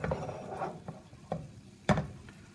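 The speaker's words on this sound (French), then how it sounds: "tout au long de la cuisson des poireaux, évidemment, vous pensez à toujours bien remuer" Leeks being stirred as they cook in a pan, soft scraping strokes with a few sharper clinks against the pan over a faint sizzle, close and quiet with no talk.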